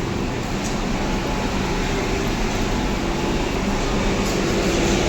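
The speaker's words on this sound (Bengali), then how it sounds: "আজকে সানডে, ট্রেন তো চলে এসছে" A train stands at a station, heard as a steady, loud low rumble and hum that continues without a break.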